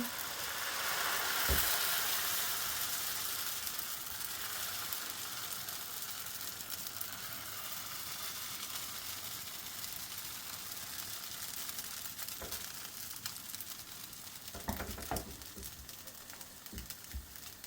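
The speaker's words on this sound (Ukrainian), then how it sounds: "Сковорідка розігріта, змащуємо її олією або масличком вершковим. Починаємо смажити." A faint, steady sizzle of pumpkin pancakes frying over medium heat in an oiled pan continues throughout, with a few soft clicks and scrapes along the way.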